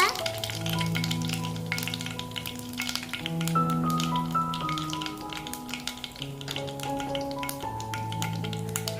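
Dried red chillies fry in hot oil with a steady crackling sizzle throughout, heard beneath continuous melodic background music.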